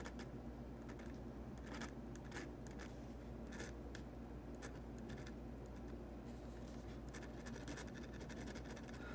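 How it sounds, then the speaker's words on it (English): Faint, fast scratchy scribbling of an Acro 1000 0.5 mm pen refill on paper, made of continuous light scratching with frequent quick strokes and nothing else in the background. "when I'm scribbling like this, it's actually very quick writing for a pen refill this small"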